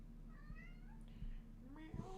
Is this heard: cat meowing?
yes